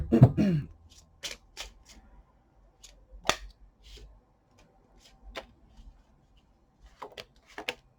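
Tarot cards handled during a reading: scattered, brief papery snaps and riffles with pauses between, fairly close and quiet, opening with a louder rustle.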